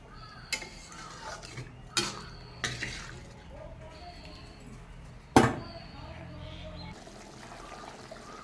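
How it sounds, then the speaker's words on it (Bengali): Water poured into a simmering curry in a cooking pan, with a few separate splashy pours and trickles over a low bubbling bed and some faint background noise. "এখন এর ভিতরে কিন্তু আমি জল দিয়ে দেবো।"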